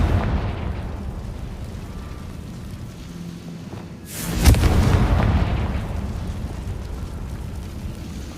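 A Confringo spell explosion in the game Hogwarts Legacy bursts midway as a single deep boom with a rushing, crackling tail, over a steady background rumble.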